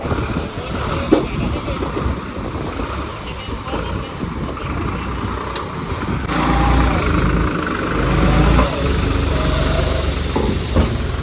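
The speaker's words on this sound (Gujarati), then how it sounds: "આ ટ્રેક્ટર આવી ગયું છે માટી લઈને" A tractor hauling soil rumbles steadily nearby, its engine growing somewhat louder midway, with people talking over it.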